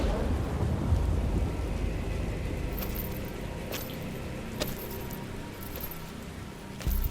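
A heavy thunderstorm pours steady rain, with sharp cracks of thunder striking several times over the constant hiss of falling water.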